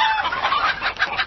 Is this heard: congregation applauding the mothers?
no